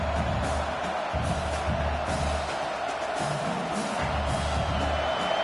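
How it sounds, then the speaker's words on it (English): Steady roar of a football stadium crowd at a Memphis vs LSU game, cheering in the early going with occasional whoops, a dense continuous wash of noise with a low rumble underneath. "Listen to the crowd energy here in the early going."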